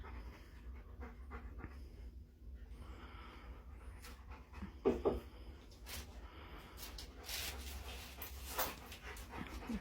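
A dog pants steadily in a room, rapid breathy huffs running throughout, close and moderately quiet, with a faint clatter or two partway through.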